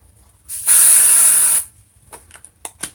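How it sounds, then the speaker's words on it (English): Dry shampoo is sprayed onto hair in one loud, steady aerosol hiss lasting about a second, followed by a few faint taps and rustles. "I'm using a little dry shampoo because my hair gets greasy on the edges."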